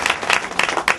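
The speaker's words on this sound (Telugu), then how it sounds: "అందరు గట్టిగా చప్పట్లు కొడదాం" A church meeting audience claps loudly in a brief burst, the applause swelling and dipping in uneven waves of many hands.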